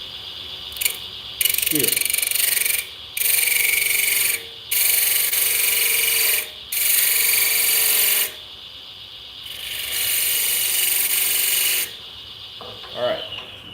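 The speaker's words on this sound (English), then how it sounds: "I am going to turn the lathe in reverse and scrape with my 1/2 inch" Cherry wood spice jar scraped with a half-inch tool on a wood lathe running in reverse, loud harsh scraping bursts of a few seconds each separated by brief pauses, with a short spoken word near the start.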